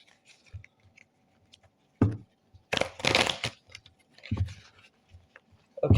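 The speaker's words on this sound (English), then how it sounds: "One more shuffle here, we'll get underway." Tarot cards being shuffled by hand in soft riffling bursts, with a short rustle and then a longer papery flurry in the middle, quiet and close with pauses between.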